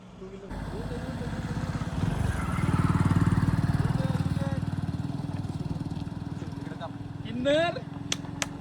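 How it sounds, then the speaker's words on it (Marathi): A two-wheeler engine idles steadily close by, its low buzzing hum running throughout while several people talk loudly over it, with a brief rise near the end as another vehicle arrives. "ए गाडी आली दुसरी."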